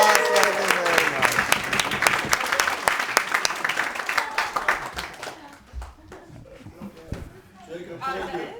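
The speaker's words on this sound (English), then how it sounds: "Give yourselves a round of applause." A seminar audience gives itself a round of applause, with loud, dense clapping that thins and tapers off in the second half while chatter and a voice continue.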